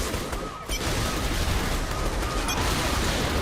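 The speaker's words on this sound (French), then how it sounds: "Ah merde, je tire trop près." Gunfire in a video game, heard as a dense, continuous rattle of rapid shots that fills the whole stretch at a steady, fairly loud level, with a brief dip near the start.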